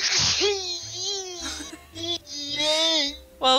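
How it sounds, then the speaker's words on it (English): A sneeze heard near the start of a live gameplay stream of Harvest Moon: Boy & Girl, a single sharp burst partly overlapped by someone talking over background game music. "That sneeze, though!"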